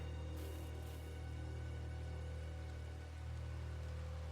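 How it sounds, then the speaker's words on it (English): Steady rain falling in the colony-building game RimWorld during a heat wave, a constant broadband hiss of drops on surfaces, close and even throughout with no talk. "it's starting to rain, so that'll put that out"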